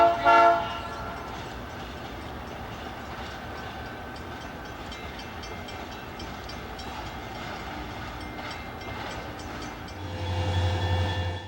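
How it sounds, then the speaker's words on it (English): A Southern Pacific Dash 9 locomotive sounds its Nathan P3 horn at the Stockton diamonds. A short chord opens, then steady rail rumble and wheel noise roll past, and a louder sustained horn blast closes. "this Dash 9 SP8186 does have the classic Southern Pacific voice of a Nathan P3"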